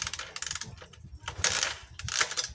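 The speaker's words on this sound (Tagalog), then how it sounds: "Ayan, pinadyakan ko, wala talaga siyang response," A motorcycle that will not start, with no spark, being kick-started: several close mechanical clanks and ratcheting strokes of the kick lever, and no engine catching.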